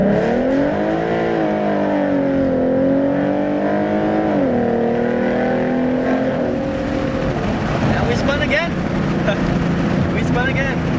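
Close, loud engine roar of a Mustang with 3.73 gears launching from a standstill in first gear, rising and falling in pitch as the tires spin, with a voice talking over it.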